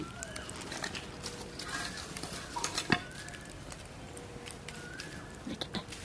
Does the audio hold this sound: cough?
no